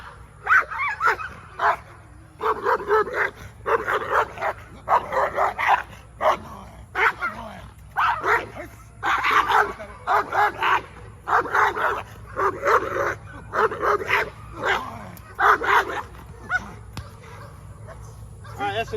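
Two roughly four-month-old protection dog pups bark in rapid, repeated bursts during bite work, loud and close, with occasional yips and whimpers between barks and a person's voice mixed in.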